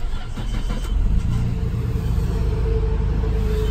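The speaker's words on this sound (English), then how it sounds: "Let me run the engine actually so that we can hear the engine" A Nissan Skyline GT-R R32 engine idles steadily, heard from inside the car as a low, even rumble with a slight rise in revs near the start and no speech.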